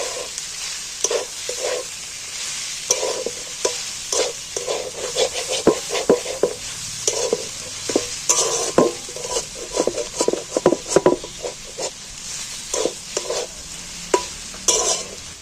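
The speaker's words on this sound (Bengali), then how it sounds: "এইবার ভালো করে কষিয়ে নেব মশলাটার সাথে।" Fish stir-fried with spice masala in a pan, a continuous sizzle broken by frequent scraping and knocking strokes of a spatula, busy and close, with no talking.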